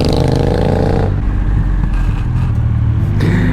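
A powerful motorcycle roars loudly nearby, a strong revving burst that drops off after about a second into a rougher, lower engine rumble.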